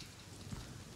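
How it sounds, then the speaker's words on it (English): Steady rain in the survival video game Rust, a dense, even hiss of drops on surfaces, moderately quiet and continuous with no voices over it. "So rain, like what you're hearing right now, isn't super loud"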